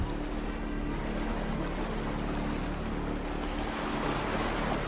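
Steady wash of waves and surf on open water in a video game, a continuous broadband roar with low rumble and wind-like hiss, even and unbroken throughout.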